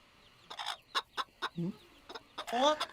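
A hen clucks in a series of short, uneven bursts, close by, ending in a louder drawn-out squawk; no one speaks.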